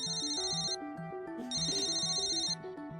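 Mobile phone ringtone for an incoming call, a loud repeating electronic melody with bright high harmonics, playing alone in two looping phrases with no talk.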